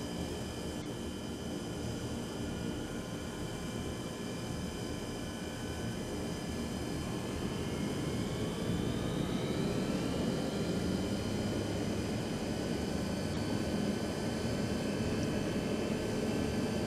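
A Hawker Siddeley HS748 turboprop engine spools up in a flight simulator. A steady broadband roar carries rising whining tones that climb in pitch as the engine starts and stabilizes.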